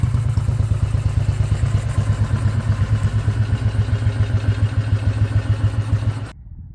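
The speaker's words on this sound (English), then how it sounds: "Well, the bike runs great" A Royal Enfield motorcycle engine runs steadily on a test drive, a loud, close, even thumping rumble that holds for about six seconds and then cuts off abruptly.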